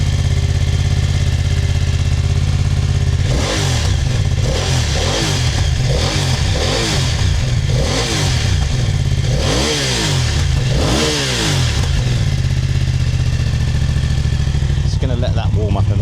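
Motorcycle on its stock OEM exhaust revving hard, a loud engine idling then blipping through a string of sharp throttle rises and falls, fairly mellow in tone, with voices faintly in the background.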